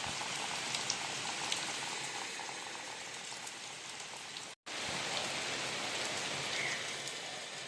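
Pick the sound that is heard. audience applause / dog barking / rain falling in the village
rain falling in the village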